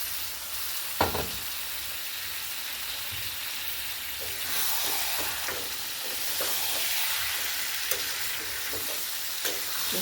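Marinated mutton and four medium tomatoes fry in a pan for a Bengali mutton curry, giving a steady close sizzle with soft stirring scrapes and occasional pops throughout, with no talk.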